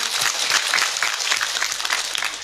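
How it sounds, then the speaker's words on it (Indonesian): A crowd claps steadily, a dense patter of hands lasting the whole moment without pause. "Tepuk tangan dulu dong sound systemnya."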